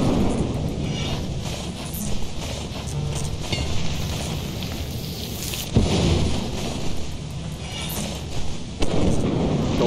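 Thunder booms from a lightning storm in the video game Lethal Company: a steady rumble of rain and wind with sharp cracks near the six- and nine-second marks, loud and continuous without speech.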